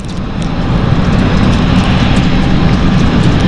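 Aircraft at London City Airport, a steady loud broadband engine roar that holds evenly throughout, with no talk.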